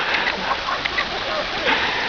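Someone slips into a river while out riding bikes, a loud broad rush of splashing and churning water that runs continuously for about two seconds, close by and without pause.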